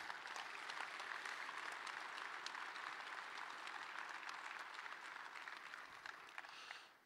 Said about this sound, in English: please give a round of applause to the people behind the scenes of this Cattlemen's Congress